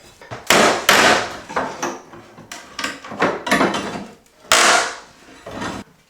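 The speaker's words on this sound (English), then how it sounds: "We're gonna tear into this. This trim has to come off anyway." Wooden window trim is pried and torn off during a home rebuild, producing a series of loud close cracks, thumps and splintering bangs in irregular bursts.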